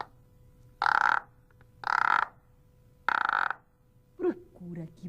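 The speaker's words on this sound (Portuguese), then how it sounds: "Era um sapo que também estava fazendo um som" A frog croaks in three loud, evenly spaced bursts, followed by a softer, more tonal croaking call, all close and alone against a faint background hum.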